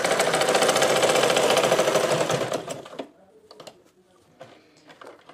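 A sewing machine stitches salwar pants in a rapid, steady mechanical whir lasting a few seconds, then stops, leaving faint clicks and handling noise.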